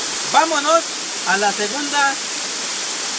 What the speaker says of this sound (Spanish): caída del agua.